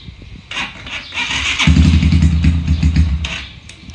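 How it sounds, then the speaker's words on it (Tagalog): A Kawasaki KR150 motorcycle's starter is tried, a whirring crank with a brief rough engine burst up close that fades without settling into a steady run. "Check natin yung starter"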